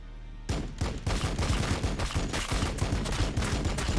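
Units in Warhammer 40K Battlesector open fire after a brief quiet start, and a rapid, sustained volley of shots rolls on, loud and even, without voices.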